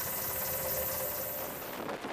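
An MH-60 Seahawk military helicopter drones steadily with a constant rotor and engine roar, fairly loud and unbroken, with no talk.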